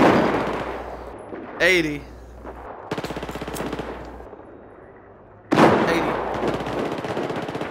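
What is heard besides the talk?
gunfire in the video game Battlefield 4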